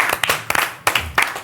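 Sparse, uneven applause from a small group on a sports program, a few distinct bursts of clapping with short gaps between them, close and moderately loud.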